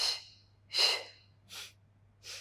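Four breaths out during a Pilates spine mobility exercise, each a soft, airy rush: two stronger exhales, then two lighter ones, evenly spaced with a faint low hum underneath and no talking.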